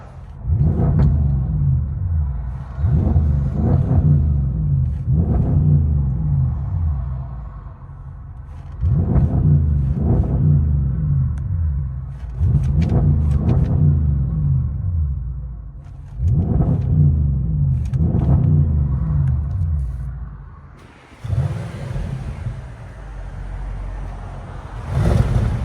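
A 2017 Audi S7 widebody with a 4.0L twin-turbo V8 and a muffler delete rumbles from inside the cabin, deep low surges swelling and fading in repeated rev bursts, then settling quieter.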